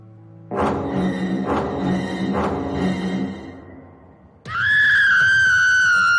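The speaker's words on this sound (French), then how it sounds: "Mais pourquoi crie-t-elle comme cela?" A woman screams, first in three rising, wailing bursts over a low rumble, then in a sustained, piercing high-pitched shriek that holds steady and loud to the end.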